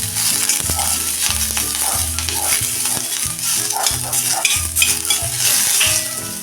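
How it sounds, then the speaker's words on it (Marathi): Ginger, garlic and onion sauté in a pan with loud continuous sizzling and repeated rhythmic scraping and clinking of a metal spatula against the pan. "त्यातच हे आपण आलं आणि लसूण परतून घेणार आहे कांदा मग उकड्यापर्यंत ते आपण चांगलं असं परतून घ्यायचं आहे"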